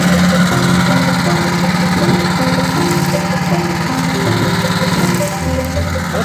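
A single-shaft 2-in-1 garden branch chipper, model DS-50BD7K, runs steadily at close range, giving a loud continuous engine drone with a buzzing mechanical whine and no talk over it.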